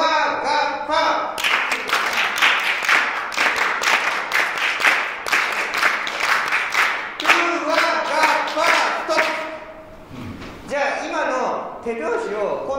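Audience at a live Japanese performance claps hands together in a steady rhythmic beat, loud and close, with a voice talking over the claps and pausing near the end.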